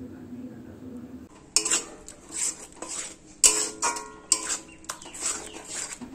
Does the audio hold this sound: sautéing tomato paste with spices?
yes